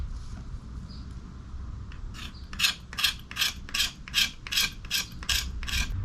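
A knife edge scrapes shavings off a piece of fatwood in a quick run of about nine rhythmic rasping strokes, close and crisp after a quiet start, with no talking.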